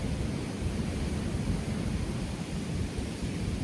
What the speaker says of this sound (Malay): So breezy. So windy.